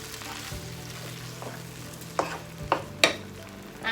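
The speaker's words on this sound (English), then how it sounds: "I'm not going to finish the tomatoes, so I'm just going to add half of it into the mixture, and pretty much I'm just going to stir." Tomatoes are stirred into a pilau rice mixture in a pot, with a soft steady sizzle of frying and a few sharp spoon scrapes and clinks near the end. The sounds are close and there is no speech.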